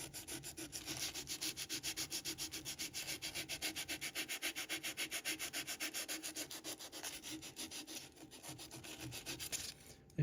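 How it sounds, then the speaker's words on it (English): Sanding a carved wooden transition area by hand with Mirka 220-grit sandpaper: steady, rapid back-and-forth rubbing strokes, close and continuous, with a brief pause near the end. "I'm just gonna hit this transition area a little bit with the 220."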